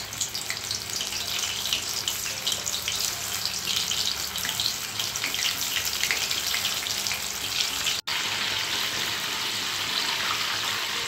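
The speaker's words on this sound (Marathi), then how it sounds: "अशा पद्धतीने आपल्याला ते सोनेरी रंग येईपर्यंत छान तळून घ्यायचे आहे।" Soya chunks deep frying in hot oil, a dense continuous crackling sizzle that stays loud and even throughout, with one brief dropout near the end.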